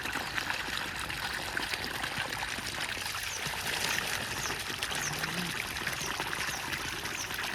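Cold borewell water pours and splashes continuously during an outdoor bath at a farm, a steady close trickling wash with no break and no talk.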